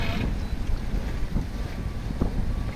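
Wind rushes steadily over a microphone aboard a sailboat at sea on the way to Kauai, a dense roaring wash with a few faint knocks and no voices.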